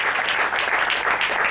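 A church congregation claps together in steady, dense applause, brief and fairly close, with no voices over it.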